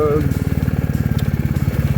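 A motorcycle engine chugs in a fast, even pulsing rhythm at close range while riding in light rain, with a brief voice at the start.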